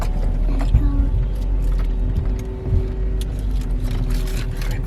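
BMW S55 engine car driving after a new engine mount install, a low steady engine hum inside the cabin with faint road noise and a few light clicks, with brief background voices.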